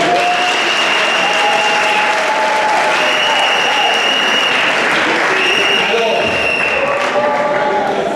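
Guests at a Congolese wedding dinner in Brazzaville applaud the couple with loud, sustained clapping, joined by cheers and high whistles from a large crowd, with a voice faintly mixed in.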